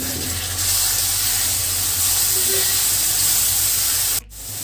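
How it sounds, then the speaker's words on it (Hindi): Soy sauce poured into a hot pan for chili paneer, giving a steady, loud sizzling hiss that runs unbroken until a brief dip near the end. "दो चम्मच डालेंगे सोया सॉस"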